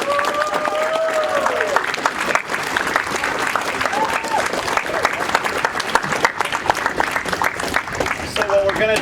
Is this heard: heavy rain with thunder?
no